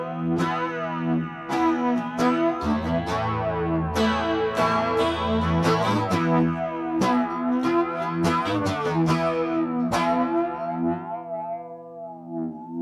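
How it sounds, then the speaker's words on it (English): Electric guitar notes run through a Pearl Flanger FG-01 pedal with high feedback, giving a metallic, tinny, ringing swirl over sustained chords, loud and steady, fading at the end. "So you can hear as soon as I put the feedback up, we start to get sort of reverb, very tinny sound."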